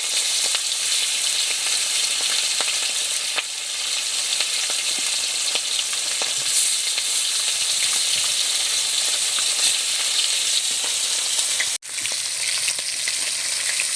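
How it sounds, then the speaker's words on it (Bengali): Tengra fish fry in hot oil with a loud, dense, continuous sizzle and crackle of spattering, close by, with a brief dip near the end and no speech. "এই ট্যাংরা মাছটা কিন্তু বন্ধুরা তেলে দেওয়ার সাথে সাথে একটু ফাটে, খুব সাবধানে ভাজবেন।"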